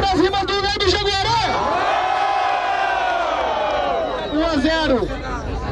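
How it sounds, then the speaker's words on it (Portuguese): A live crowd at a Brazilian freestyle rap battle roars and cheers for an MC, with loud shouting and whooping that swells and holds for several seconds. An announcer's voice cuts in over the noise at the start and end. "Barulho pras rimas do Nando Jaguaré"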